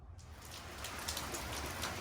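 Rain falls outdoors on a nasty, wet day, a dense steady hiss of drops close by with scattered brighter patters and no speech.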